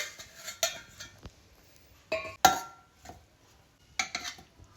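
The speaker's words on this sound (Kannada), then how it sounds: "ಇದನ್ನು ಜಾರ್ಗೆ ಹಾಕತ್ತಾ ಇದ್ದೀನಿ ನಾನು." Cooked tomatoes spooned into a steel mixer jar, with sharp metallic clinks and scrapes of a spoon against the jar rim in a few uneven bursts, close and alone in a quiet kitchen.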